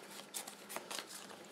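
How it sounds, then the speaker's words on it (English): A deck of alliance cards is shuffled by hand, giving soft papery riffles and scuffs in a few short bursts, quiet and close. "Give them a good shuffle."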